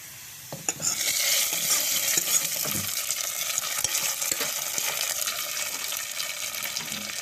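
A hot tempering hits spinach sambar with a sudden loud sizzle that settles into a steady, close frying hiss lasting several seconds, with no talking over it.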